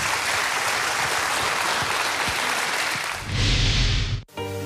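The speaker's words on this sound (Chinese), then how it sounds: "再次掌声欢迎老师" Loud, sustained applause from a seminar audience greets a visiting economics professor in Shenzhen, dense clapping filling the room before a brief swell and an abrupt stop near the end.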